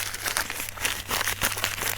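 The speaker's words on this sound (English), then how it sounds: "So here's how you crumple it up." A sheet of paper crumpled by hand into loose kindling for a campfire, giving a continuous close crinkling and rustling with irregular crackly peaks and no talking.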